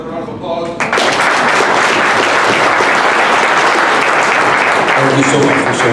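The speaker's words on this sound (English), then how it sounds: "Give her another round of applause." A crowd at a recovery ministry event bursts into loud, sustained applause after a brief moment of talk, the clapping dense and steady right to the end.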